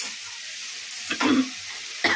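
Neem leaves fry briefly in a pan, a short soft sizzle with a couple of scraping stirs over a few seconds, fairly close and moderately quiet, with no voices.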